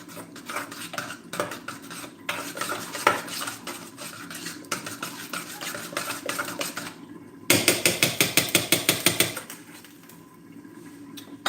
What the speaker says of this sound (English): Okay, so I'm just gonna give this a good stir.